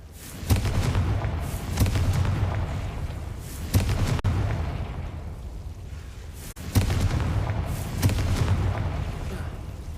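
Spell explosions from a PC action game go off in repeated booming bursts, with sharp blasts recurring every couple of seconds over a continuous low rumble.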